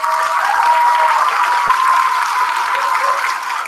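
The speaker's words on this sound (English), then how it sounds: "Give yourselves a round of applause." Dense, steady applause from an audience after a fourth grade school music program, a continuous wash of many hands clapping at once, fairly loud and close, holding level for several seconds before easing slightly at the end.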